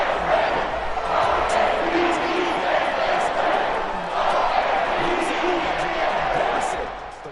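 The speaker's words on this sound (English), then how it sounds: "They also obviously have this home crowd behind them in a big way." A home crowd at an NFL football game between the Bengals and the Ravens gives a steady, loud stadium roar that swells and ebbs, with a voice talking over it.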